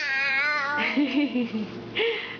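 A voice imitates a cat, drawing out a sing-song meow, followed by shorter repeated meow sounds, close and clear.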